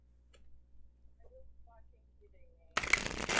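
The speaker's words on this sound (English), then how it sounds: "I have to go back to shuffling." Playing cards are riffled in a brief loud burst near the end, after faint scattered ticks and light talking earlier.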